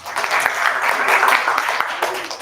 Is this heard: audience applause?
yes